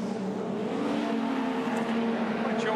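Holden HQ race cars at Symmons Plains, engines droning steadily as they run down toward turn 6, moderately loud with a rising whine of passing cars and no talk.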